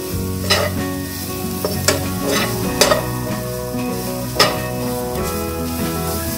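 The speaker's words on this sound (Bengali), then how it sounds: "এটা আমাদের স্টিলের খুন্তি দিয়ে লাড়া হচ্ছে" A steel spatula stirs carrots frying in ghee in a pan, giving a steady close sizzle broken by sharp metallic scrapes and taps at uneven intervals, with no talking.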